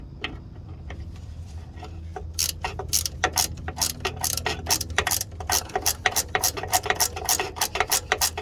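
A ratchet wrench clicks rapidly in quick bursts as shock absorber bolts are removed on an S10 Blazer, close and loud, the rhythmic pawl ticking continuing steadily after a quieter start.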